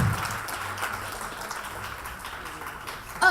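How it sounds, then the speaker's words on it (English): Applause from an audience at the SAAWA 2014 awards ceremony for an award recipient, a soft, steady patter of many hands held at a faint, distant level without talk. "So everyone, please give a big round of applause for Bhavani."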